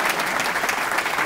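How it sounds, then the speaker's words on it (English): Live audience clapping in a political speech setting, a dense, steady burst of applause filling the short moment at close range with no talk over it. "go ahead, clap."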